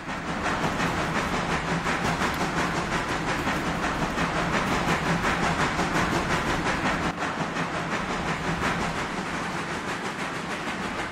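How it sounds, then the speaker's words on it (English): A train runs steadily on the W&R Line in the Railroader video game, with a continuous, rhythmic clickety-clack of wheels over rail joints and a faint hiss, loud and close throughout with no talking. "So I got a train going."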